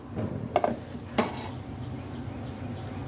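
A metal cooking pot is set down on a stove, with a couple of sharp clanks near the start and another clank a moment later, then quiet kitchen ambience.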